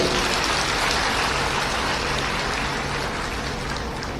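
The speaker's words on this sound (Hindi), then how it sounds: "तो गवर्नर साहब का भी ताली बजा के स्वागत करें।" Dense, steady applause from an audience at a training programme in Bhopal welcoming the governor, a continuous wash of many hands clapping at once, fairly loud and sustained throughout without talk.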